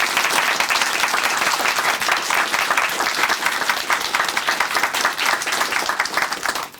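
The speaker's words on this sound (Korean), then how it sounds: "우리 문성주 형제님께 다시 한번 큰 박수 보내드릴게요." A studio audience at a Christian broadcast program applauds warmly, with dense, steady clapping that continues evenly for several seconds before trailing off.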